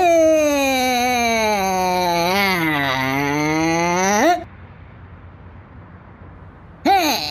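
A cartoon cow gives a long, loud, wavering moo lasting several seconds, then falls silent before a second moo starts abruptly near the end.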